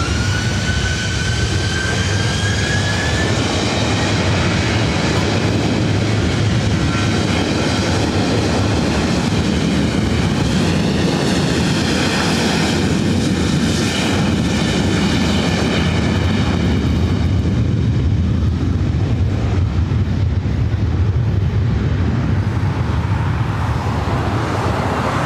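A jet airliner takes off from runway 24 Right at LAX, its engines a loud, steady, broadband roar that fills the whole stretch without a break and thins slightly toward the end.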